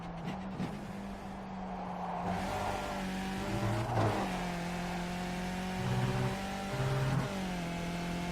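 Skip Barber race car in the iRacing sim at Donington Park: an engine drones steadily with rising and falling revs through shifts and cornering, loud and continuous with no talk.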